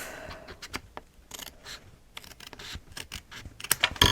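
Scissors snip through patterned paper for a photo album in a string of short, crisp cuts and scratchy rustles, close and uneven in rhythm.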